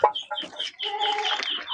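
Muscovy ducks on a meat-duck farm give a close burst of short, busy clucking and chattering calls that overlap continuously.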